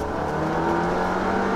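A Seat Leon Cupra of about 300 horsepower, in sport mode and third gear, pulls with a steady, full engine drone from start to finish, with no voices over it.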